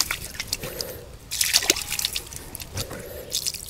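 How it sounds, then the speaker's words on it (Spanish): Water poured from a container onto a hand outdoors, a soft splashing trickle in two short bursts with a brief noisier patch between them, close and moderately quiet, with no talking. "Échame un poquito de agua en la mano ahora aquí"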